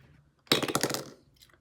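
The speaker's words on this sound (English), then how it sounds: "So we need the coloured dice." Coloured dice are rolled for a savings challenge game, a short burst of close clicking and rattling that lasts about half a second, then stops with a faint tap and no talking.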